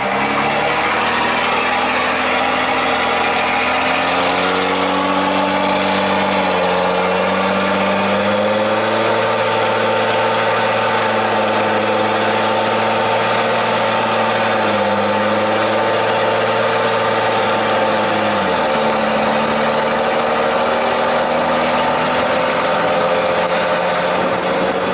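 A Cummins-swapped truck engine pulls a trailer up to speed, a loud steady diesel drone whose pitch climbs through gear changes, heard from inside the cab with no talk.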